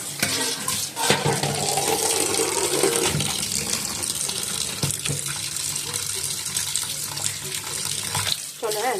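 Tap water running steadily over chicken being washed in a kitchen sink, a constant close splashing with small knocks and a short break near the start.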